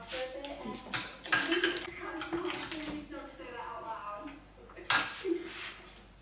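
Chicken pieces are stirred in a pan with utensils, giving soft metallic scrapes and light clinks against the cookware while a person talks over the cooking.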